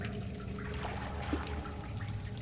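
A river of blood flowing in the horror game Outlast, a steady, close trickling and gurgling of liquid that runs unbroken and fairly soft throughout.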